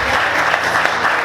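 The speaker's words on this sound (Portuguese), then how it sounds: "Você pode aplaudir Jesus bem forte." Brief burst of steady applause from a church congregation, loud and dense throughout with no pause.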